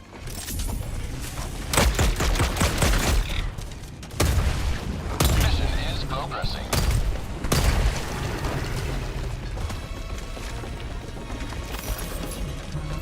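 A sidearm fires in Helldivers 2 in rapid booming bursts, several loud repeated shots in clusters with short gaps, over continuous game background noise.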